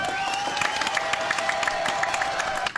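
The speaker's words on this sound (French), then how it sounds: "Applaudissements pour Sandrine." A television studio audience applauds for Sandrine, dense steady clapping with some cheering throughout, under a sustained musical tone, fading at the end.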